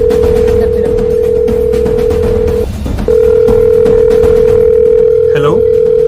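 A continuous telephone dial tone on speakerphone, loud and steady, briefly cutting out once before resuming, with background noise and a faint voice near the end.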